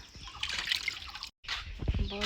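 Rainwater drips and trickles around a house after a shower, a quiet, close patter broken by a brief silence, with a fowl-like call near the end.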